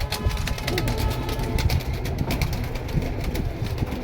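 Lal Patti military pigeons coo at a pigeon sale in Keraniganj, Dhaka, a low, repeated throaty burble close by amid steady background noise.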